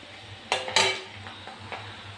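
Soaked chana dal is being fried in a pan, with a few sharp clinks of a metal utensil against the pan over a faint low sizzle, close by.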